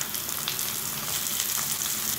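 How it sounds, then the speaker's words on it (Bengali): Chopped onions and tomato sizzle in hot oil in a home kitchen, a steady close hiss and crackle with a light stir, no voices. "পেঁয়াজ ভেজে নেওয়ার পর দিয়ে দিতে হবে টমেটো কুচি।"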